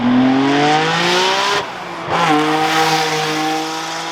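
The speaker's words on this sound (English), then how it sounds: "I always thought the car sounded a little raspy" A 700 hp V6 all-wheel-drive Honda Civic with a 76mm single turbo revs loudly up close, its pitch rising and holding, then dipping briefly before climbing again into a sustained roar.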